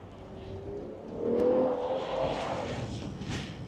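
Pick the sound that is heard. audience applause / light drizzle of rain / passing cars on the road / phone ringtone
passing cars on the road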